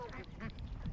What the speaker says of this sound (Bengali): অসংখ্য সাদা হাঁস